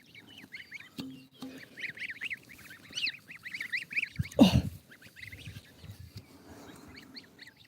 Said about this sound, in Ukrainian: бо вже почув гусенята